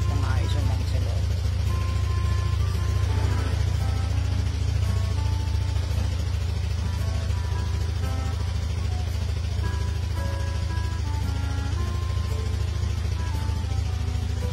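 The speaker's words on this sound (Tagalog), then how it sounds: "painitin na natin yung loob ng motor or yung makina para mag-circulate ng maayos yung langis sa loob" A Honda PG-1 motorcycle engine idles steadily to warm up after an oil change, a constant low rumble running throughout while music or a voice plays faintly over it.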